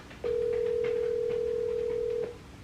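A single steady electronic telephone ringing tone of an outgoing call sounds for about two seconds, close and clear over faint background noise, then cuts off.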